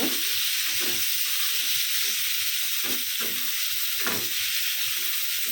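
Sliced papaya goes into cooked masala in a hot pan, producing a continuous loud hiss and sizzle with occasional stirring clatters and no voices.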